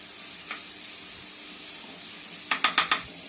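Onion frying in oil for egg bhurji, a low steady sizzle in the background and a quick burst of four sharp scraping stirs near the end.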